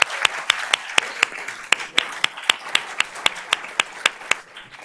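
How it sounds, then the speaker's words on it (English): Applause at a board of trustees meeting, a few people clapping in a slow, fairly regular rhythm of sharp individual claps over a softer patter of other hands. "So let's give her a round of applause."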